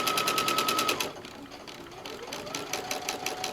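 A sewing machine stitches a quilt-as-you-go pet placemat in fast, even bursts, running hard, easing off briefly, then picking up again close by.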